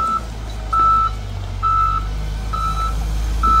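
Bulldozer reverse alarm beeping while it clears a road blocked by a landslide near Kapurkot, four long steady beeps at an even pace over a low, rumbling engine drone.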